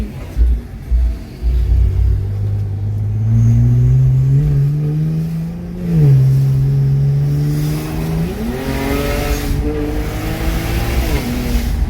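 BMW 335i with N54 turbocharged engine accelerating hard through the gears, a loud close engine drone climbing in pitch, briefly dropping at a shift near mid-clip, then rising again with turbo boost.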